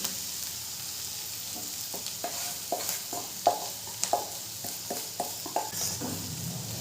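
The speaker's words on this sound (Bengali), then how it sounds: "গাজর আর পেঁয়াজের সাথে খুব ভালো করে একটু ভেজে নেব।" Semolina being fried with carrots and onions in a pan, a steady sizzle with repeated scraping stirs roughly every half second, close and alone with no voices.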